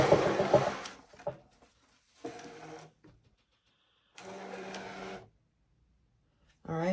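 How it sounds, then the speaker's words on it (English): A Brother ScanNCut cutting machine draws in its cutting mat in short motorized bursts, a whirring feed sound starting and stopping several times with quiet gaps between, close and moderately loud. "I'm going to bring my machine forward here. And we're going to load the mat."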